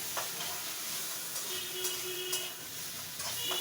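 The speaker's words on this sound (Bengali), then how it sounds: "এটা একটু আর একটু ভাজা ভাজা করে নিচ্ছি মশলাটা যাতে একটু ভাজা হয়" Spices frying in a pan while making egg pulao, a steady close sizzle and hiss with a few light scraping taps from stirring.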